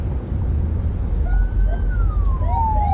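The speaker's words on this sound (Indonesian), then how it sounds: "ada ambulan ya di belakang ini." An ambulance siren wails somewhat in the distance on the Jakarta–Merak toll road over steady low traffic rumble, its pitch rising and falling in a long sweep.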